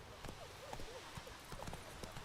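Hooves of Roach, Geralt's horse in the video game The Witcher 3, clip-clop in a steady walking rhythm, close and fairly loud, with short wordless vocal sounds now and then over the top.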